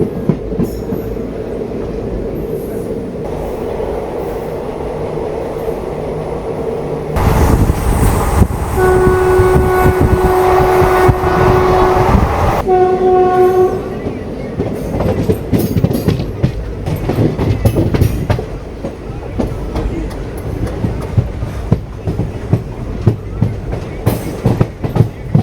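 Passenger train on the Shoranur to Coimbatore line rumbling along with clattering wheels, then a long, loud horn blast sounds midway before the steady running noise returns.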